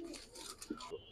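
Giribaz pigeons, an old-generation breed, giving soft low coos among faint background chatter and bird calls, quiet and close.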